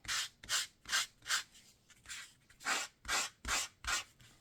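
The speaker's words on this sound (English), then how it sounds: "I'm going to sand the top lightly." Sandpaper rubs across embossed colored cardstock that has a white core, sanding the top lightly. About ten short, evenly paced scraping strokes sound close and fairly quiet, with no voice over them.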